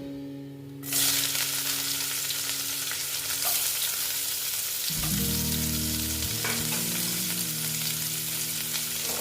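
Chopped onions fry in oil with black cumin seeds. A loud, steady sizzle bursts in after a second and continues close by, with a low tonal hum underneath and a few faint stirring knocks.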